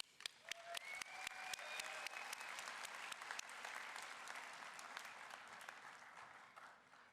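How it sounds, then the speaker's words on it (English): A graduation ceremony audience at Felician University breaks into applause, a dense, sustained patter of many hands with a few sharp claps standing out, fading slightly toward the end; a faint whistle or cheer rises early on. "So you should really give yourselves like a round of applause, guys."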